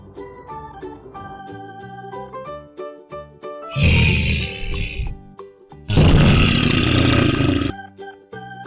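A lioness roars in two long, loud bursts over a plucked musical backing, with a brief pause between the roars.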